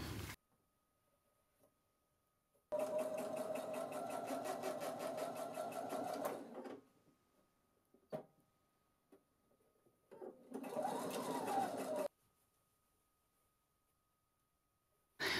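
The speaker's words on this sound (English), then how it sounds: "Continue to roll the edge over and stitch along the entire edge." Sewing machine stitching along the rolled hem of a fabric scrub cap: two steady, rapid mechanical runs, a longer one and a shorter one, close and clear with quiet pauses and small handling clicks between.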